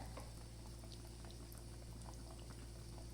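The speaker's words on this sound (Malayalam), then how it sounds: "അപ്പം നന്നായി തിളച്ചു പിന്നെ നമുക്കത് ഓഫ് ചെയ്യാം" A pot of spicy red mackerel curry bubbling at a steady, vigorous boil, close up and continuous, with no voices.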